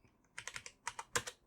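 Keys clacking on a computer keyboard while coding in Visual Basic 1.0, a quick close run of about eight crisp keystrokes in uneven bursts, with no voice.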